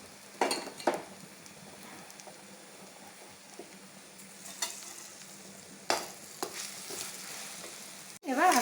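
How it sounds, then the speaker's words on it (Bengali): Chana dal paste going into hot oil in a wok and getting stirred, a steady low sizzle broken by several sharp scraping and clinking strokes of the spatula, with a loud burst near the end. "এখানে আমি কড়াইয়ে বুটের ডাল বাটাগুলো দিয়ে দিচ্ছি।"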